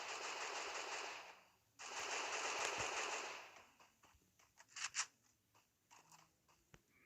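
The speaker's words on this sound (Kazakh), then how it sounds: "Екі адам атысып отыр." Gunfire in the video game Free Fire: two long bursts of automatic fire, then scattered single shots and crunchy impacts, all fairly faint.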